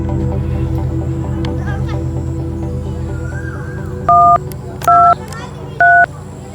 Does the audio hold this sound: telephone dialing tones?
yes